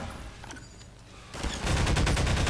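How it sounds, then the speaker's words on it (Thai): Gunfire in Half-Life 2, a quiet moment with faint sounds giving way to a loud, sustained burst of rapid automatic shots. "เอาแล้วผมยิง"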